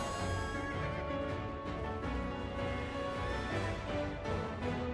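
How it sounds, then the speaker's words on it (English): Horses neigh and whinny in the background of Final Fantasy XIV, repeated calls over a dense, continuous game soundscape with faint hoof clip-clop. "I just keep hearing neighing of horses in the background."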